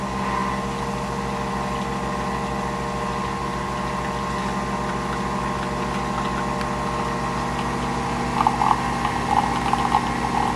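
A Nespresso Vertuo Plus coffee machine brewing, giving a steady mechanical pump hum with tonal whine that runs throughout, moderately loud and close, with faint rattling bursts near the end and no talking.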